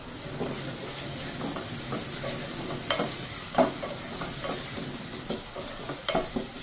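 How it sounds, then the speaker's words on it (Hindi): Garlic, ginger, green chilli and cumin sizzle and fry steadily in a hot pan, with occasional stirring scrapes and crackles over a constant hiss. "ये हमारा लहसुन, अदरक और ये हरी मिर्च भी फ्राई हो जाएंगे।"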